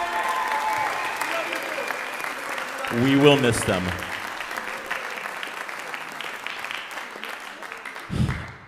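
An audience at a middle school spring concert claps in a full, sustained round of applause, and a voice speaks briefly over the clapping partway through.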